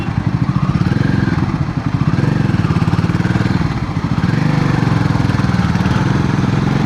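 A Royal Enfield Himalayan 450 (2025+ model, fitted with a Fuel X Pro Plus dual O2 sensor) accelerates in second gear, its engine thumping in a loud, fast, steady pulse that rises slightly in pitch, with no talk over it.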